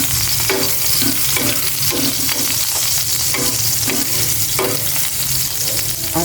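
Onion sizzling and crackling steadily in hot oil for a simple home-cooked Filipino dish, with repeated stirring scrapes sounding close up over the constant fry, and no voices.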